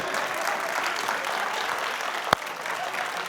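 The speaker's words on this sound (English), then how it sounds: "Y'all can clap if y'all want to." Comedy show audience clapping steadily throughout, a dense even wash of applause with one sharp clap standing out near the end.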